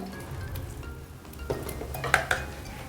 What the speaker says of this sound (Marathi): हे सगळं बॅटर जे केलेलं आहे ते सगळं व्यवस्थित एकजीव करून घेऊया